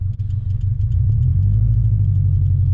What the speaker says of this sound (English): you'll want to be in second gear and do a pull from 20 to 60 miles an hour